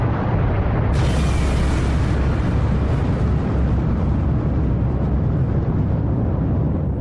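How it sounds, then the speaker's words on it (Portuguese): Rumbling supernova explosion effect: a sustained, loud, roaring blast with a brief bright crackling burst early on, settling into a dense continuous low rumble that fades slightly toward the end. "As camadas externas da estrela caem sobre si mesmas e uma explosão enorme é gerada."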